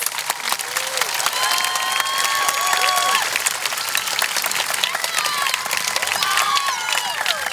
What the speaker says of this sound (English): Please help me congratulate these outstanding students with a round of applause.